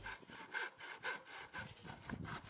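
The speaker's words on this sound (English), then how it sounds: "And then I'd cut with a handsaw." Handsaw cutting a wooden filler piece for a fence post extension in a sloped garden, with steady back-and-forth rasping strokes in a regular rhythm, close and moderately loud, no talking.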